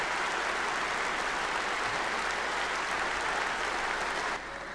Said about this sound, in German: der junge Lindner, wie er da noch geklatscht hat.